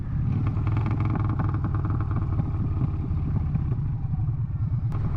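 A motorcycle engine runs steadily and loudly up close, a continuous low rumble with clattering mechanical texture and small surges, heard on a road trip with no one talking.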